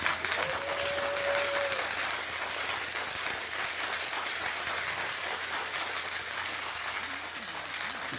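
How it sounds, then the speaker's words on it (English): A conference audience applauds continuously for about eight seconds, a dense steady wash of clapping hands that fills the room, with a few faint voices mixed in. "Clap it up for them."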